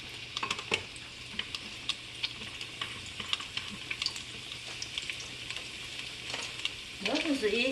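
Salmon fries Chinese-style in a pan with a soft, continuous sizzle. Light utensil scrapes and clinks come through as it is stirred, and near the end a voice and running water rise briefly over it.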